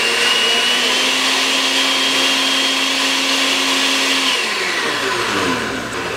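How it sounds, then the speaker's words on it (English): A blender purees cooked sweet potatoes into baby food, its motor roaring loud and steady throughout with a whining hum that shifts pitch slightly near the end. "put your blender top on and blend away."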